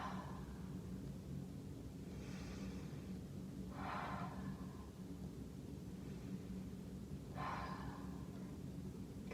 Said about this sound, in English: Deep breath, turn a little farther. 3 deep breaths here.